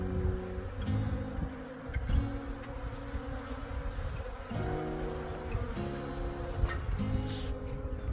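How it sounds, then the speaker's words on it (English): A dense swarm of bees buzzes continuously around freshly watered plants on a boat, a close, loud, steady drone with rising and falling layers of wingbeats throughout. "Got 500 bees right there alone."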